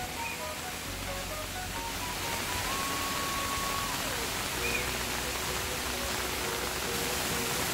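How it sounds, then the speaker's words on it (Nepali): Broadband rushing water from a rain-swollen stream runs steadily throughout, loud and close, with faint tonal sounds layered above it. "खोला बढ्दैछ."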